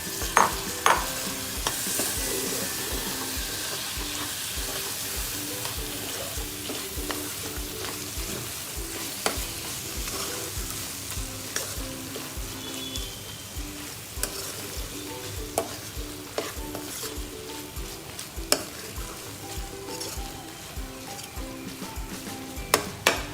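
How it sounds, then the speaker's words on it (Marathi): Prawns fry in hot oil for colambi masala, sizzling steadily up close while a utensil scrapes and stirs them around the pan in irregular clatters. "आता आपण त्याच्यामध्ये आपली कोळंबी टाकणार आहोत"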